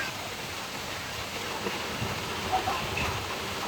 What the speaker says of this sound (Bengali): এই যে দেখেন কি সুন্দর বৃষ্টি হচ্ছে